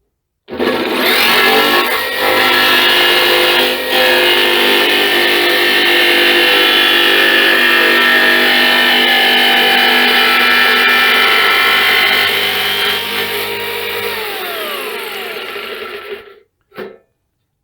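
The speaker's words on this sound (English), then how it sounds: "I used a Dremel cutoff wheel to make starter slots so my jigsaw would fit in it. And now I'll cut from both sides and finish the cutout." A jigsaw cuts through a steel ammo can, finishing a cutout started with Dremel cutoff-wheel slots: a loud, close, sustained buzzing rasp running for most of the span, then stopping abruptly with a short clatter afterward.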